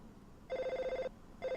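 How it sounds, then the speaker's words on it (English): In the video game Five Nights at Tubby-Land, a telephone rings in an electronic trilling tone, one ring followed by the start of a second, moderately quiet and alone. "You're gonna enter through phone, like phone ringing."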